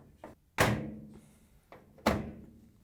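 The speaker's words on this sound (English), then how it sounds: "you can just snap it back down so the retainer clips lock it in" A Samsung washer tub cover is pressed down by hand so its retainer clips lock, giving two sharp plastic snaps about a second and a half apart with small taps before each, close and loud in a quiet room.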